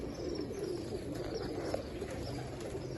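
Pigeons cooing on a rooftop loft where paired birds are kept, a low steady murmur of soft coos filling the whole stretch with no voices over it.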